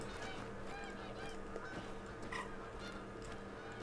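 A flock of Canada geese in the video game theHunter: Call of the Wild honks continuously at a distance, the calls overlapping against a steady background hum.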